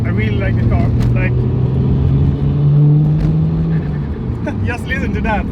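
A Nissan Skyline R33 GTS engine revs up and holds with a deep, rising drone, loud and close, before easing back, while someone talks over it.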